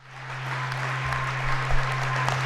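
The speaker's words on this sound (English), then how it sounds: "I'm going to applaud for her anyway" An audience at a city's 2023 State of the City address applauds Andrea Reynolds, a dense, steady wash of clapping that rises over the short stretch, heard from within the hall over a low electrical hum.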